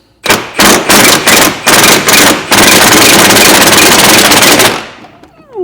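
Pneumatic impact gun with a deep socket hammering at rusted 18 mm shock bolts on a Corsa C, several quick loud rattling bursts, then one long continuous run before stopping.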